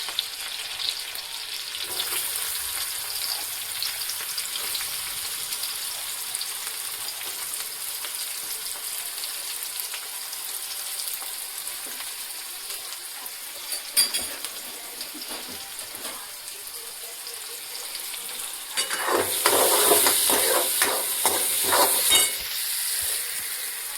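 Chili and onion fry in a pan with a steady, close hiss and occasional stirring clinks, then the sizzle swells into a louder, sharper burst near the end before settling again.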